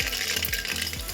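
Mustard seeds sizzle and crackle in hot cooking oil in a pan, a loud, dense, continuous frying hiss heard close up, with no voices.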